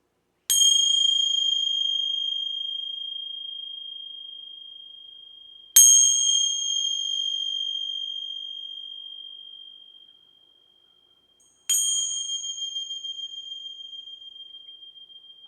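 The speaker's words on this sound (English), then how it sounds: "I'm gonna ring some bells here. They may be a little loud." Three loud, clear bell strikes spaced about five seconds apart, each a bright metallic ding with a long, slowly fading ring.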